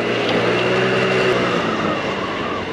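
A motorcycle engine drones steadily while riding a coastal route near Garipçe and Rumeli Feneri in Sarıyer, a close, constant hum with a rough rumble and wind noise, no speech.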